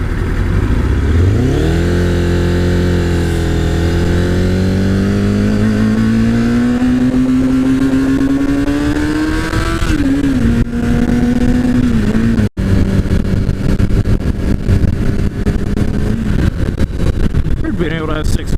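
A Kawasaki ZZR600 motorcycle engine revs loud and close, rising steadily in pitch through a long pull on the interstate, then shifting and pulling again, with wind buffeting and a rider talking over it.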